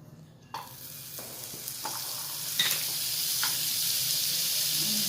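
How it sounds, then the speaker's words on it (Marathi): Butter sizzling in a hot pan as a frankie roll is roasted slowly, a steady bright frying hiss with a few soft scraping stirs, close and fairly loud, no voices. "आता हे असं बटर टाकते."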